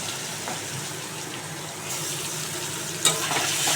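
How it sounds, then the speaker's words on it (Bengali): Paneer pieces sizzle in oil left over from frying brinjal, a steady close hiss that brightens midway, with a sharp clink of a utensil near the end. "বেগুন ভাজার তেলে আমি পনিরগুলো ছেড়ে দিচ্ছি"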